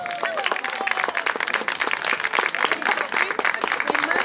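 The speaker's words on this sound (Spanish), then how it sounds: "¡Fuerte el aplauso para ella!" An audience bursts into dense, sustained applause at an evening event, many hands clapping steadily with scattered cheers and a voice rising over the crowd.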